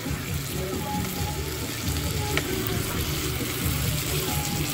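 Water pours steadily into a hot frying pan of pork ribs, sizzling and hissing in a constant wash of noise.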